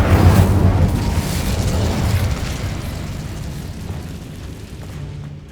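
The Incendio fire spell cast in Hogwarts Legacy: a loud whooshing, rumbling burst right at the start that slowly fades into a long crackling, roaring tail.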